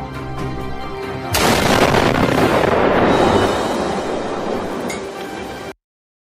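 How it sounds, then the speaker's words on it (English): An explosion destroying a Chuck E. Cheese's restaurant, a loud sudden blast that swells into a long roaring, crackling rumble with clinking debris, then cuts off abruptly. "Caillou, how dare you blow up Chuck E. Cheese's?"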